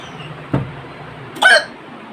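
Two sharp hiccups from a woman, a short low jolt followed about a second later by a louder, higher, breathier one, set against a quiet room.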